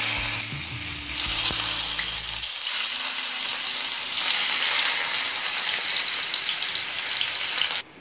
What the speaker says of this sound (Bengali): তেলটা হাই ফ্লেমে গরম করে নিলাম। এবার একে একে করলার টুকরোগুলো দিয়ে দেব।